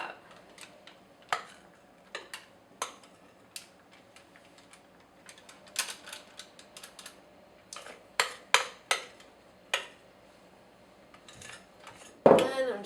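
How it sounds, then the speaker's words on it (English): A spoon spreads and levels an ice cream cake mixture in a lined tin, making sporadic scrapes and light taps against the container. A louder clatter comes at the end. "I'm just going to kind of use the spoon to even level it out a little bit."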